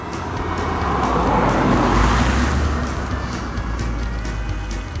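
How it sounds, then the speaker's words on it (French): A single car passes on a small country road, rising from a distant hiss to a loud broadband rush at its closest and then fading slowly as it drives away, with no voices. "il y a beaucoup de voitures qui passent ici, sur une petite route de campagne"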